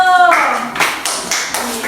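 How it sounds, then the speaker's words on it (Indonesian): A short burst of clapping from a small group, quick uneven claps under a voice. "Tepuk tangan untuk Edo."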